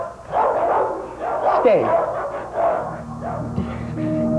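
A dog barks and yips several times in short bursts at close range, mixed with a voice speaking, from an old VHS children's show.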